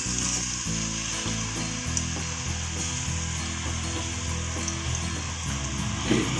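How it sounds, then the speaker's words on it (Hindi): Beef kofta, nargisi style, frying in hot oil, a steady soft sizzle running alone under a low background hum. "ऑयल हमारा गर्म हो जाएगा तो हम इसमें कोफ्ते फ्राई कर लेंगे।"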